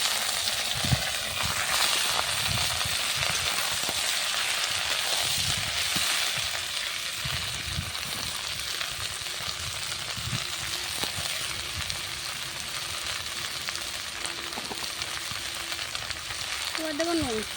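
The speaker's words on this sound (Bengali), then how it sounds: "এবার কেটে রাখা শাকগুলো দিয়ে দেবো" Chopped greens frying in oil with garlic and green chilli over a clay stove: a steady, close crackling sizzle fills the whole stretch, dotted with soft clinks and scrapes of stirring.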